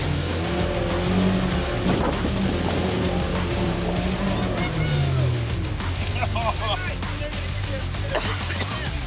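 A 4WD truck on the rough Old Telegraph Track in Cape York revs hard as its wheels spin and scrabble while stuck, the engine rising and falling close by, with people talking over it.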